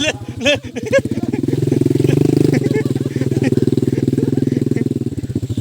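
A motorcycle engine idles and revs with a loud, steady rumble after a brief voice at the start.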